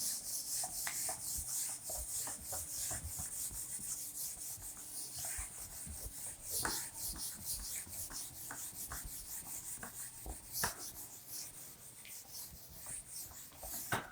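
A duster rubs writing off a classroom board during a mathematics lesson, giving continuous scratchy back-and-forth strokes, close and fairly quiet, with no talking.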